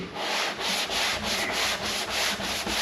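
Hand sanding with 120-grit paper on the body of a 1964 Chevelle Malibu being repaired, a steady back-and-forth scratching rasp in regular strokes, close and loud with no talking.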